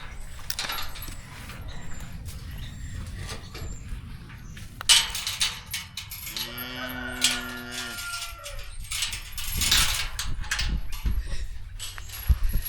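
A single cow moos on a farm, a drawn-out low call from mid-distance amid clatter, rustling and outdoor noise around an open gate.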